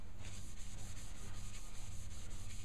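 Steady rhythmic rubbing of a tissue over wood, applying sanding sealer, soft repeated swishing strokes close by, continuous and even throughout.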